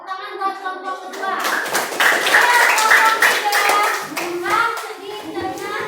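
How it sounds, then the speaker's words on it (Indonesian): Students in a classroom clap their hands for a group presentation, a burst of lively, uneven clapping mixed with children's voices talking over it. "Tepuk tangan buat kelompok kedua."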